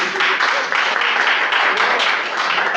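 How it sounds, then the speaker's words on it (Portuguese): A church congregation applauds during a sermon, sustained loud clapping from many hands filling the hall without a break, with no speech over it. "dê uma salva de palmas para o Senhor Jesus."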